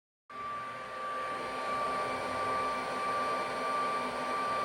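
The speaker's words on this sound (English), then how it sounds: "one that it's not going to help is the fan by the motherboard" The motherboard fan of a Sovol SV08 3D printer starts abruptly and then runs continuously, a loud steady whooshing drone with a thin high whine, close by.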